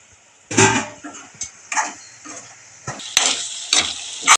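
A village-style prawn and brinjal curry cooks in a pan, close up, with bursts of sizzling and scraping spoon strokes every second or so against a quieter simmering background.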